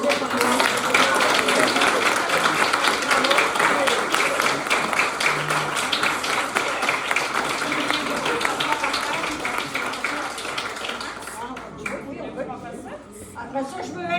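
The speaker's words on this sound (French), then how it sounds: "j'aimerais ça, une bonne main d'applaudissement." An audience at a seniors' residence gathering in Saint-Félicien applauds steadily for a long stretch while chatter and voices run underneath, then the clapping gradually thins out and talking takes over.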